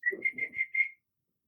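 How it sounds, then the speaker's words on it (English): Someone whistles a short quick tune of about five clear notes close to the microphone, followed by silence. "I just wanted to practice my whistling skills."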